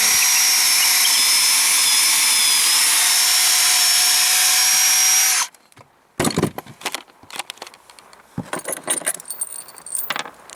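A power drill boring a 5/16-inch pilot hole into a broken attic rafter runs as one loud, steady whine for about five seconds, then cuts off, followed by scattered knocks and rustling in a tight space.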